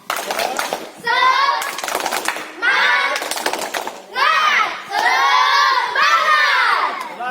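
Students in an outdoor volleyball class in Banda Aceh shout a spirited group chant together, loud bursts of massed young voices repeating in rhythmic waves with brief gaps between, close and crowded.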